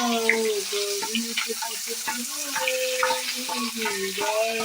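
Onions fry in a pan with a constant soft sizzle and occasional stirring clicks, running under a steady tonal background melody.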